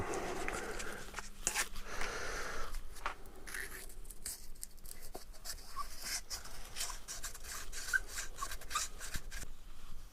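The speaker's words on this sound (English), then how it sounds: "I'm going to take myself a little bit wet and dry, wrap them around the socket." Wet and dry abrasive paper wrapped around a socket rubs inside the detent pin holes of an E46/E36 ZF gearbox casing, giving a steady close scratchy rasp with short uneven strokes and no talking.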